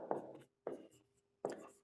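Chalk or marker writing on a board during a math lesson: three short scratchy strokes, close and faint, separated by brief silences.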